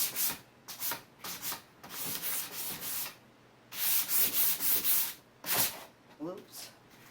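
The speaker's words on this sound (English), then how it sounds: "Sand it back just a little bit." Hand sanding on a wooden bathroom vanity, rapid back-and-forth scratchy strokes in close bursts with short pauses, then a few louder swipes near the end.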